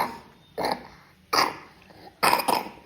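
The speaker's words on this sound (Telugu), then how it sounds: "దగ్గులేసిందిగా" A young girl coughs three times close up, sharp separate bursts spaced about a second apart, the last one a double cough.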